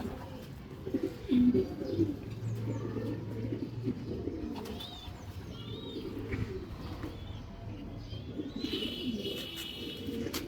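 A high-quality racing pigeon that has raced 350 km coos softly at a loft, with low rolling coos and faint chirps from other birds, quiet and close.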